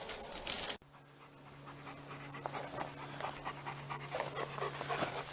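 A dog pants steadily and rapidly close by, a rhythmic breathy huffing that continues after a brief louder burst at the start, with no voices.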